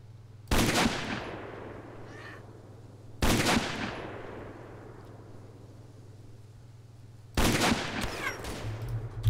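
Three loud, separate gunshots in the video game DayZ are fired at an AI, each a sharp crack with a long fading tail, spaced several seconds apart over a low steady hum.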